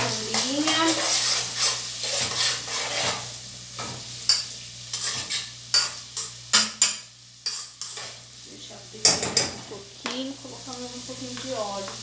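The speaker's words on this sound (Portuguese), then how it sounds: "Já tô aqui com a cebolinha fritando" Scallions and carrots sizzle and fry in a pan while a utensil stirs and scrapes repeatedly against it; a person talks intermittently over the cooking.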